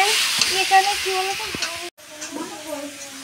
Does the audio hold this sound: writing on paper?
no